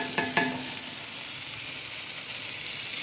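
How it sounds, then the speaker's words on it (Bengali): Okra frying with salt and turmeric in a pan, a steady soft sizzle throughout with two brief stirring clatters near the start, close by and with no talking. "ভেন্ডি নুন হলুদ দিয়ে সুন্দর করে একটু ভাজা ভাজা করবো।"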